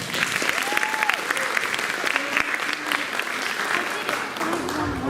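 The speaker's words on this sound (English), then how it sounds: "All right, round of applause for 8th graders." Audience at a school district film festival applauding eighth-grade students, a continuous clapping wash with a voice speaking over it and a few brief whistling or squeaky tones.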